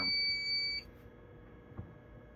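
A fire alarm system goes into pre-alarm during a pull-station test: a steady electronic tonal buzz sounds loudly for under a second, then cuts off, leaving a faint room hum and one soft knock.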